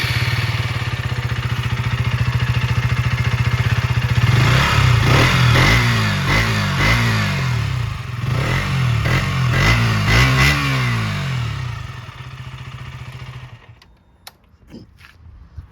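A 2023 KTM Duke 125 motorcycle with BS6 exhaust idles loudly and close, then gets several sharp, rising revs in a row before the engine cuts and quiet falls, leaving a few faint clicks.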